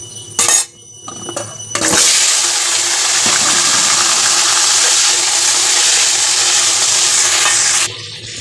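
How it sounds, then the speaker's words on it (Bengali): Diced potatoes with salt and turmeric hit hot oil seasoned with cumin seeds and bay leaf, bursting into a loud, steady frying sizzle after some clatter of utensils, then cutting off sharply near the end. "এবার ডুমো ডুমো বড় বড় দেখে আলু নুন হলুদ দিয়ে ভাজতে দেবো"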